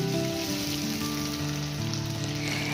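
Diced potatoes frying with a little salt in hot mustard oil, a steady, close sizzle without pause and no talking.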